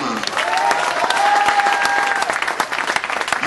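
A crowd at a bowling podium ceremony applauds with sustained, dense clapping. A few faint voices sound beneath it.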